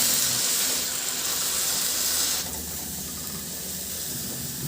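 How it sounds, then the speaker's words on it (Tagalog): Potato pieces frying in hot cooking oil, a steady loud bright sizzling hiss that drops a little in level partway through and carries on alone. "Magpainit muna ako ng mantika at iprito ko na rin yung patatas hanggang sa magkaroon lang siya ng dark spot"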